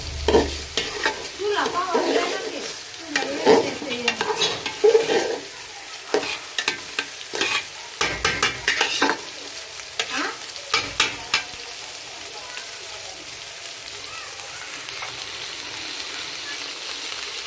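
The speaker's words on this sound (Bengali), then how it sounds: "আর এখানে আমি আরেক বেগুন ভাজতেছি" Eggplant frying in a pan for a home-cooked lunch, oil sizzling steadily as a utensil stirs and scrapes in bursts of clattering strokes, busier at first and then settling into a quieter hiss.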